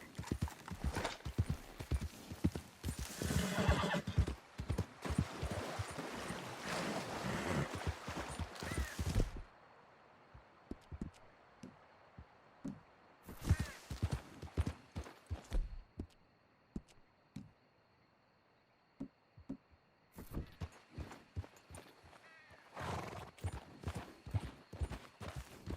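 Horse hoofbeats in Red Dead Redemption: rapid, loud, rhythmic galloping clip-clops in bursts, easing briefly to quieter, sparser steps and a pause before the gallop resumes.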